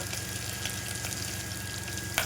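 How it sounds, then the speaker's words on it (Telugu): Thinly sliced onions and tempering seeds fry in oil in a pan for dry chilli dal, giving a soft, steady sizzle with faint crackles and no voices. "ఇవన్నీ బాగా వేగాలండి."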